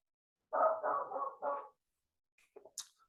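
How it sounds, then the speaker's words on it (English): A short burst of several dog barks in quick succession, moderately near outdoors, then quiet with a few faint bird chirps afterward. "Barking dogs."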